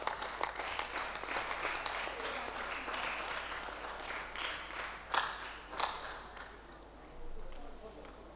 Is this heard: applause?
yes